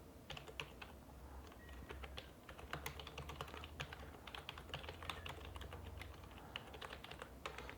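Fingers tap steadily on a computer keyboard, producing a quick, irregular stream of soft clicks, fairly close but quiet.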